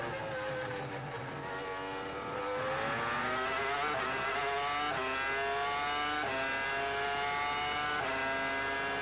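Formula 1 cars at the 2002 Canadian Grand Prix scream past, their high-revving engines rising in pitch as they approach, loud and sustained over the whole stretch.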